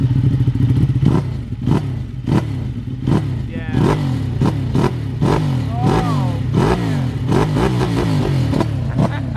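A 2020 Ducati Streetfighter with an Akrapovic exhaust revs repeatedly in sharp, loud bursts that rise and fall in quick succession, close by, while people talk briefly over the engine.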